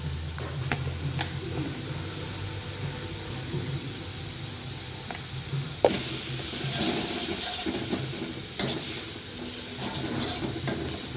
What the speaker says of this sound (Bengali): তো ভালো করে কষিয়ে নিচ্ছি।